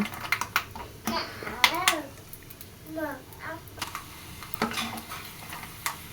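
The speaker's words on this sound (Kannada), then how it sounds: "ಎಣ್ಣೆ ಚೆನ್ನಾಗಿ ಕಾದಿದ್ರೆ ಈ ಥರ ಫ್ರೈ ಮಾಡ್ಕೊಬೇಕು" Peanuts frying in hot oil, a light sizzle with clicking stirs of a spoon against the pan, while a voice chatters intermittently over it.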